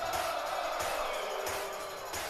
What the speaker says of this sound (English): the NXT crowd remembers Sami Zayn